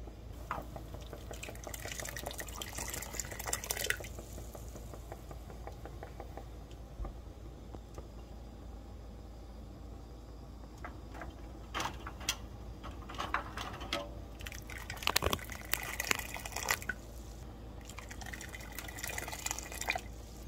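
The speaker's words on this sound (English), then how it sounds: "So now we're going to go ahead and ladle them into our hot jars." Hot blueberry jam being ladled into canning jars, with intermittent clinks, drips and ticks of ladle and glass over a steady low kitchen hum, quiet and close.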